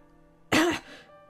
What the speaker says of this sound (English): Finn coughed up a large amount of blood.